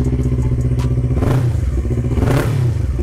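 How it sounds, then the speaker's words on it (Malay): A Yamaha R25 motorcycle fitted with an MSH G6 full-system exhaust revs loudly and close, its deep bassy engine note surging twice with throttle blips over a constant rumbling idle. "Untuk motor R25 ni dah pasang MSH G6 full system"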